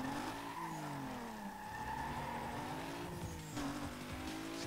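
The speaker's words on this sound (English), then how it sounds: "The Supra sounds weird." A Toyota Supra in the Need for Speed Most Wanted video game, an engine revving with rising and falling pitch while the tires squeal and skid, fairly quiet and continuous without any voices.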